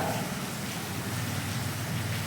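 Steady rain falls throughout an outdoor village gathering, a faint, even hiss of drops with no voices heard.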